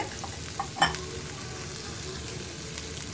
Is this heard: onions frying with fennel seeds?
yes